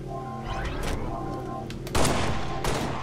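Gunfire from a Halo match, a rapid series of loud shots under a steady engine-like drone, with a heavy burst about two seconds in and another shortly after.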